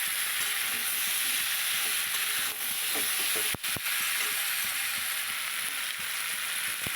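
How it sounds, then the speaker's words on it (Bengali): Spices sautéing in a pan for koi fish curry with potato and cauliflower: a constant hissing sizzle near the mic, with a few scattered stirring knocks and one sharp clack midway. "আর একটু কষিয়ে নেব"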